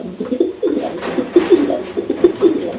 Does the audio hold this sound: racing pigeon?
yes